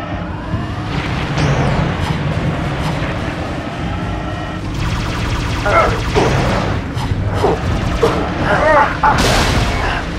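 A Halo 3 ODST battle against a scarab erupts in constant loud gunfire and heavy booming explosions, dense and overlapping throughout with almost no pause.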